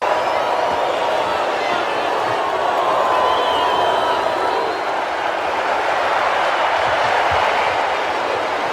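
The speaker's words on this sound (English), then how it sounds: "when Drago does it, the crowd kind of pops for Drago" A big arena boxing crowd in Rocky IV roars steadily for Drago, a dense wash of cheering that stays loud and unbroken throughout.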